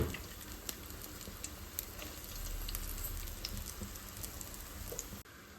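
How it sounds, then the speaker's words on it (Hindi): Dahi vada lentil dumplings frying in hot oil, a steady dense sizzle with fine crackling pops that holds evenly throughout and cuts off abruptly near the end. "अच्छा, मैं अब तेल में ना बड़े डालने स्टार्ट कर दिए।"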